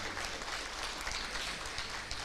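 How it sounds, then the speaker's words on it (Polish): Applause from an audience at a primary school celebration in Świdwin, steady dense clapping at moderate distance, fairly faint and continuous. "Ogromne brawa"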